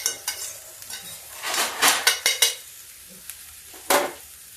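Grated cabbage and vegetables tossed in a pan for baingan bharta, with scraping spoon strokes and clanks against the pan over a soft sizzle, arriving in several distinct bursts separated by quieter pauses.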